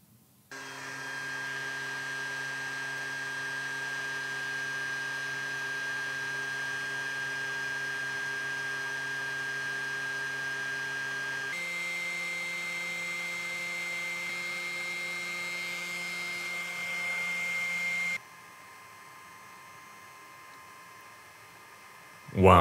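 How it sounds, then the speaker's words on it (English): A hot-air heat gun desoldering a chip from an Xbox Series X board gives a steady, close blowing hum that continues at length, briefly changes pitch partway through, then drops off near the end. "I had to basically put the nozzle directly onto the chip to melt the solder"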